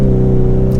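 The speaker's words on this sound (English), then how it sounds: "Letting the car shift," A 2022 Ford Mustang EcoBoost High Performance Package with an automatic transmission hums steadily through a gear change, a loud, close, tonal engine drone with a brief shift in pitch near the end, no talking.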